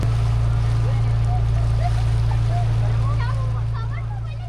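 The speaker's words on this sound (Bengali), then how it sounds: "শুধু পানির ঢেউ আর ট্রলারের ইঞ্জিনের শব্দ।" A trawler's engine on Kaptai Lake, a loud, steady low drone with lapping water and wind around it, and faint voices in the background.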